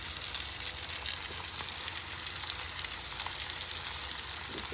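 Steak sizzles steadily on a hot grill, a close, continuous hiss and crackle with no talking over it.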